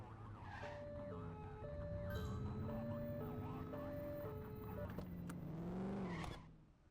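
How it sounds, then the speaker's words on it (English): A video game two-tone police siren wails back and forth in a steady alternating pattern, with a car engine humming underneath, then fades out at the end. "Get behind them and flip the siren to make them pull over."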